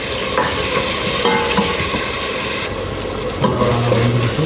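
Tomatoes being sautéed in a pan for cauliflower kurma give a steady close sizzle with stirring scrapes running throughout, without any talk.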